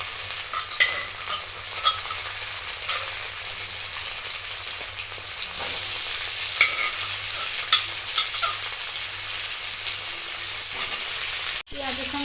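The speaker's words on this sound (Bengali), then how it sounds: "আলুগুলো ভালো করে ভেজে নেবো" Boiled potatoes frying with garlic in a pan, making a loud, continuous, close sizzle with stirring throughout and a sharp clatter near the end.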